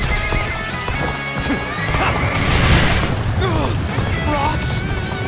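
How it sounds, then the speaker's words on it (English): Bombardment in the video game Dynasty Warriors: Origins: heavy booming impacts and crashes roll through a battlefield din, with horses neighing and hooves clattering around them and voices calling out. "Then start the bombardment."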